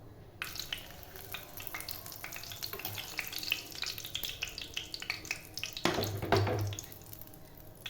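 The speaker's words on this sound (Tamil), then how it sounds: "அடுப்பில் சட்டி வச்சுருக்கிறேன் ஒரு கரண்டி எண்ணெய் ஊற்றிக்கலாம் ஒரு பட்டை சேர்த்துக்கலாம்" A cinnamon stick fries in hot oil in a pan with a faint, crackly sizzle throughout, swelling into a louder burst of hissing near the end, heard alone without talk.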